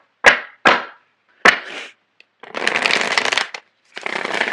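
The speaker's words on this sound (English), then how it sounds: "So I'm going to shuffle the cards." Tarot cards being shuffled by hand: a few sharp riffling bursts, then a longer, steady stretch of flicking cards, with a short final shuffle at the end, close and loud with silent gaps between.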